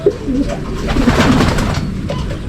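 Pigeons coo nearby, low soft throaty calls repeating over a steady background hum.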